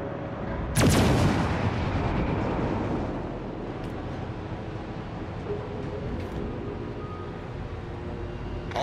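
Naval guns fire in the World of Warships: Legends video game: one heavy booming salvo lands early, followed by a long rumbling decay and faint distant rolls.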